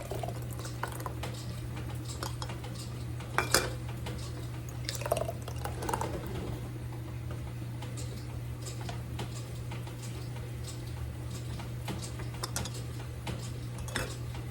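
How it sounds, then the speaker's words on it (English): Homemade applesauce is ladled into canning jars, with soft wet plops, drips and occasional clinks of a ladle against glass over a steady background hum, close and fairly quiet. "So I'm going to go ahead and fill these jars."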